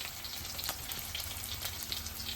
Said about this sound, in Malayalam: എണ്ണയൊക്കെ തിളച്ചിട്ട് ഇഞ്ചി വെളുത്തുള്ളി ഇട്ട് കൊടുത്തിട്ടുണ്ട്